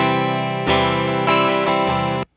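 Electric guitar played through a real Fender Princeton amp with cab simulation, several chords struck and held in a warm, full tone, loud and alone, ending with a sudden stop.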